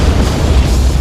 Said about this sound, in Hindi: मेरे पास में ही धमाका हुआ था ये